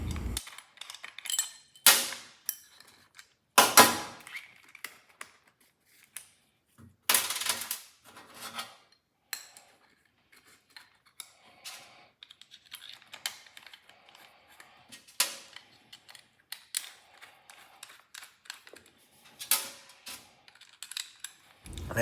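Small metal parts clicking, scraping and rattling as a bearing and washer are worked off the lay shaft of an RC Baja, with sporadic sharp ticks and clatters among long quiet gaps.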